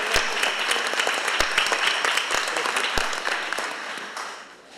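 A room of people at a board meeting applauding, dense sustained clapping with a few sharp louder claps standing out, fading slightly toward the end.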